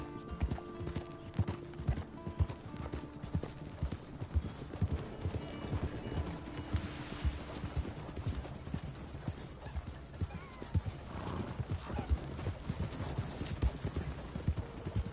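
Horse hooves clip-clop steadily through mud in Red Dead Online, a continuous rhythmic trotting close by with an occasional whinny and no talking.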